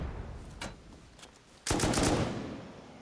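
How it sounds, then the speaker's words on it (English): Gunfire in a video game raid, a few faint distant shots followed by a loud, close burst of rapid automatic fire that rings out and decays, with no talking. "I just got shot at"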